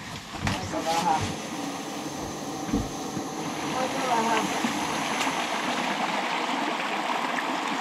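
A mountain stream rushes steadily nearby during a river crossing on a wilderness hike in Lapland, with a few splashes and knocks near the start as the water keeps up a continuous broadband roar.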